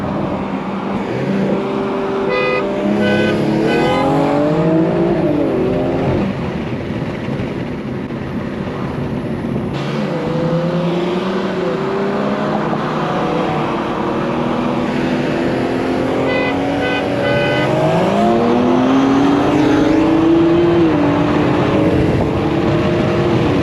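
A downpiped BMW M340i and an M4 Competition drag race with loud, close engine roar, rising and falling through gear shifts, and a spinning-tire whine that repeats across the run.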